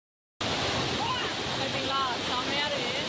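A small waterfall at a bathing spot in Nagercoil near Kanyakumari rushes in a dense, unbroken roar that starts abruptly and stays loud, with faint voices and a few whistle-like calls over it.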